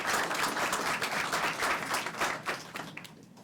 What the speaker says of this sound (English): So join me, round of applause for Frederica Wilson.